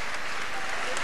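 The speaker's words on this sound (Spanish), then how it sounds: "Y el aplauso para ellos y el de toda esta" An audience at a televised boxing event claps in a short, even burst with a voice running faintly beneath.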